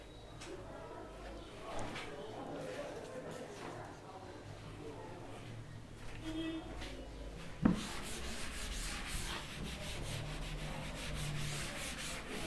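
A teacher wipes writing off a classroom board during a maths lesson: steady, close scrubbing strokes of an eraser that run through the whole stretch, with a soft knock partway through and faint room noise beneath.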